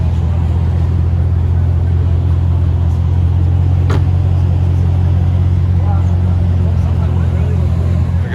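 A Bugatti Chiron, the standard rather than the Sport version, rumbles loudly and steadily at close range on Monaco's casino square on an August evening, a deep continuous engine drone with no clear revving.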